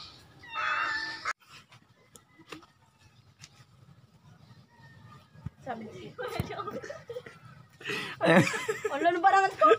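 A cat meows at a shop after eating talakitok fish, with a short meow early on and louder cries near the end, mixed with people talking and chuckling nearby.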